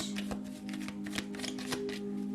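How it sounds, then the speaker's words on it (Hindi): A deck of tarot reading cards is shuffled close by in a steady, rapid riffling rhythm over a low constant hum. "शफल कर लेते हैं कार्ड्स को।"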